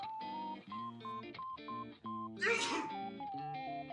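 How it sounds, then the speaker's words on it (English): A single sharp sneeze bursts out over a tonal electronic musical backdrop. "I sneezed. Oh, I'm not allowed to sneeze."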